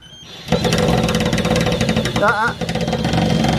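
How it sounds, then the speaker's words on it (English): A cordless electric screwdriver driving a screw into a storage fitting, its motor whirring loudly and steadily after a short quiet start, with a brief change in pitch midway and people talking over it. "you put weight on the screwdriver"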